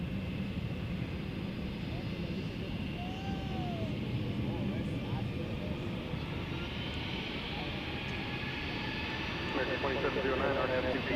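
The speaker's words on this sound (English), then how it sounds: "American Airlines, is an Airbus A321. It's kind of headed towards us here" An American Airlines Airbus A321 passing near DFW Airport, heard as a steady distant jet roar that swells slightly toward the end, with a voice and radio talk over the top.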